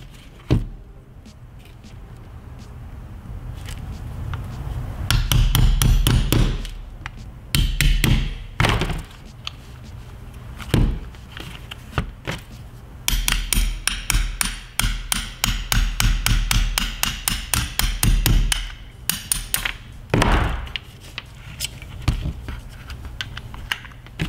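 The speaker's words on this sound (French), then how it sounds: "Pour accéder au bloc valve, il faut retirer les deux goupilles qui se retirent assez aisément." Metal pins being tapped out of an Umarex Beretta PX4 Storm 4.5 mm air pistol during disassembly to reach the valve block, heard as bursts of sharp close hammer taps and clicks, with quieter handling noise between them and no speech.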